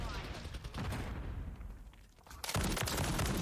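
Semi-automatic fire from the Jak Protean conversion kit gun in Modern Warfare III, a dense run of loud close gunshots that thins out briefly before a heavy burst returns.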